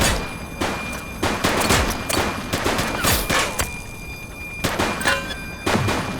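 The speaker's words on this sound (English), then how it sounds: "She's shooting!" Bursts of gunfire in a shootout in the 80s-style cop game The Precinct, sharp repeated cracks in irregular clusters with brief pauses between volleys, loud and close.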